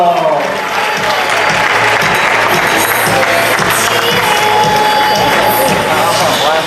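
A crowd at a costume contest claps and cheers loudly and continuously, with shouts and voices of children and adults mixed into the dense applause.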